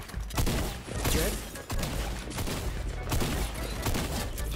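Gunfire in a video game, a fast burst of repeated shots that sound close and loud, with further bursts spread through the clip and a continuous busy game soundscape underneath.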